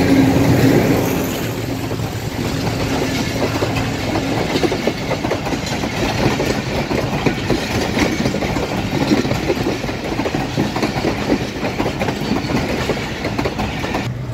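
Passenger train crossing a railway level crossing in Rawalpindi, Pakistan: a loud, close, continuous rumble of rolling wagons with rhythmic wheel clatter over the rails, steady for the whole passage.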